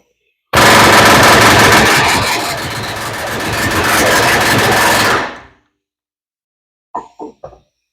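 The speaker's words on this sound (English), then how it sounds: "now I'm pushing from the back side with an air hammer against those bolts" A pneumatic air hammer rattles loudly in one sustained burst of about five seconds, driving against bolts threaded in from the front of a 2019 Subaru Forester rear wheel bearing, followed by a pause and three short, sharp knocks.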